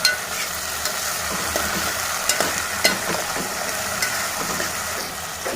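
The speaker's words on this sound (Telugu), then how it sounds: "ఇప్పుడు ఆనియన్, కరివేపాకు కూడా వేసేసాము. టమాటా ముక్కలు వేసేసాము." Onion, curry leaves and tomato pieces sizzle steadily in a pan for a cauliflower and brinjal tamarind curry, with a constant close frying hiss and occasional scrapes and taps of stirring, no voices.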